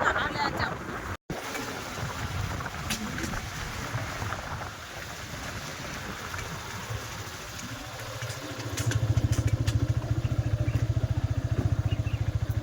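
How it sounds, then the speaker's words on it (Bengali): A motorcycle ride on a road with wind rush and a steady engine drone that grows louder and more rhythmic toward the end, with people talking over it. "বাইকে করে বাইকে করে যাবো"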